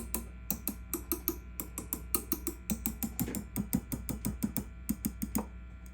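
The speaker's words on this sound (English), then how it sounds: "both of these power tubes are certainly noisy." Noisy power tubes in a 1950s National Sportsman tube radio tapped with a chopstick: rapid sharp taps and clicks, each ringing briefly with a metallic, microphonic tone over a steady low hum, close and fairly loud.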